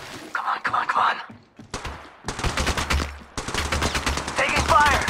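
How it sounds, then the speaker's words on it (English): Rapid bursts of automatic gunfire from a firefight in the video game Apex Legends Mobile, loud and close, with repeated volleys and short pauses between them over a low rumble of game sound. "Taking fire!"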